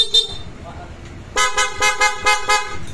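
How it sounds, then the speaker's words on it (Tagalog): Horn on a Honda Click 160 scooter, customised with a switch, sounds in a rapid series of five or six loud, bright toots. A voice is heard briefly before the honking starts. "Tapos may busina yan na PIA nakaselect."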